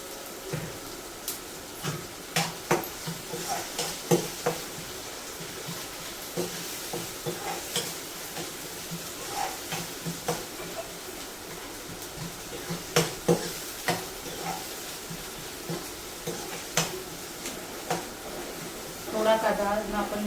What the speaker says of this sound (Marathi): थोडं तेलात आपण हे परतून घ्यायचे